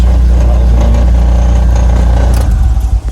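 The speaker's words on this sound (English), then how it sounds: "The engine sounds pretty nice." A BMW Z3 with a 1.9 engine runs at a steady, loud idle close by, a smooth low hum that turns briefly uneven and pulsing near the end.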